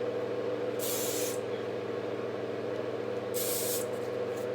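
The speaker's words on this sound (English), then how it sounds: "I'm going to take some Living Proof Humidity Shield hairspray and just kind of give it a nice brush" Two short hisses of Living Proof Humidity Shield hairspray are sprayed onto hair, each about half a second long and clearly heard over a steady low background hum.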